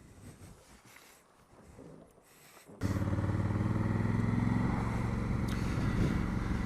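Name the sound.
Honda CRF1000 Africa Twin motorcycle being ridden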